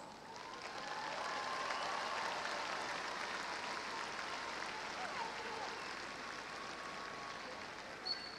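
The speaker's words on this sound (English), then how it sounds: "Everyone, let's give these new alumni a round of applause" Applause from a commencement audience for new alumni at the Texas A&M-Corpus Christi summer ceremony, a steady, fairly distant wash of clapping lasting throughout, with faint voices mixed in.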